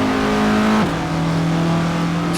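A Classic Formula Ford race car engine in the Assetto Corsa racing game drones loud and steady, then drops sharply in pitch as the driver shifts and settles into a lower, even tone.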